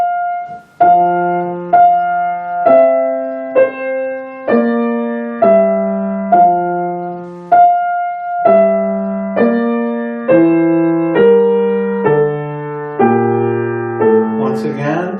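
Two-voice first species counterpoint sight-reading exercise played on a keyboard instrument, a steady sequence of sustained paired notes moving note against note at an even pace, clear and alone with no talking.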